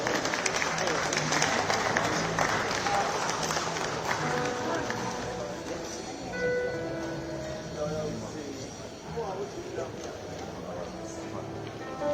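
Applause from the audience at a capital markets awards ceremony, a dense sustained clapping that fades gradually over several seconds, with voices and background chatter mixed in.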